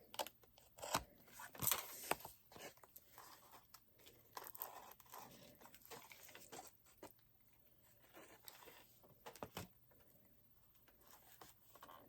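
Scissors snip through a painted canvas in a quiet room for a Christmas craft, giving scattered crisp cuts and crinkles, some loud, over several seconds with faint rustling between.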